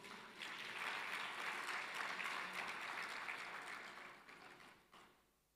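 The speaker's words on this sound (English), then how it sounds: "A big round of applause for Prof." Audience applause for a professor at an education sector lekgotla: a full room claps steadily for several seconds, then the applause thins out and fades away.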